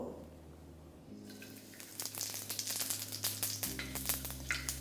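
Panch phoron spices hit hot oil in a pan after fish heads were fried, a quiet hum giving way to a bursting crackle and sizzle with sharp pops, close and alone.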